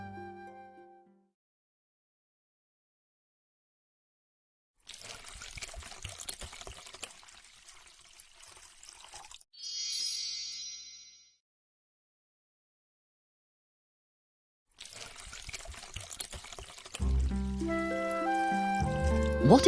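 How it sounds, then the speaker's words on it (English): Water pours from a watering can onto flowers in an animated children's story. The pouring comes in short bursts separated by silent gaps, and music rises near the end. "Now we need to water the flowers."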